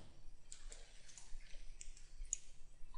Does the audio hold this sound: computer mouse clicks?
yes